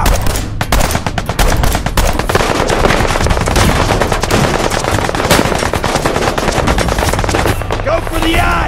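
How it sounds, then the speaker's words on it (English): Sustained automatic and single-shot gunfire from the Fallout 4 video game, loud and dense throughout with rapid bursts crowding each other and faint voices underneath. "Shoot him! Shoot them all!"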